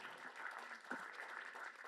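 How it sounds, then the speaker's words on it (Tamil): Audience applause at a music video launch event, a brief burst of steady clapping from a small crowd, close and fairly loud. "நல்ல பலத்த கரகோஷம் கொடுங்க இந்த நேரத்தில்."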